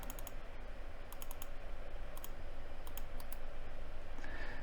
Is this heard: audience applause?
no